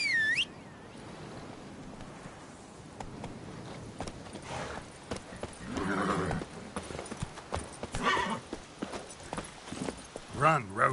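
Horse hooves clip-clopping in the fantasy video game The Witcher 3, a steady rhythm of hoofbeats with a neigh and other game sounds, some of them loud.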